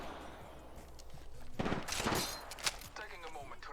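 Bursts of rapid gunfire from a shooter game crackle through the middle stretch, with a sharp single shot near the end, over a busy background of game sounds.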